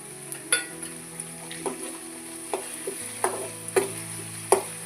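Tomato frying in a pan for a village-style North Karnataka jowar roti stir-fry, with soft steady sizzle broken by repeated sharp scraping strokes of a spoon against the pan, close and without talk.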